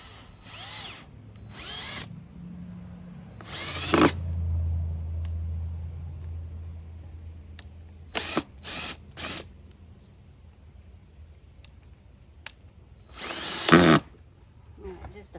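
A power drill driving a screw into wood to level a garden fixture outdoors, with a long low motor whir running about four seconds, followed by a few short drill bursts and another brief burst near the end.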